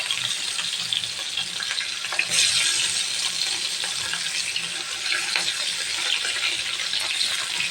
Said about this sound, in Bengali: এখন আমি আস্তে আস্তে করে উপর থেকে দিয়ে দিচ্ছি মাছটাকে।